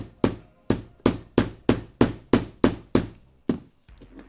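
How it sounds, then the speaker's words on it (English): A hammer strikes leather on a workbench during leathercraft of Viking and medieval style gear, nine evenly spaced, sharp, close thuds followed by a few lighter taps. "This time I'm hammering it before I cut"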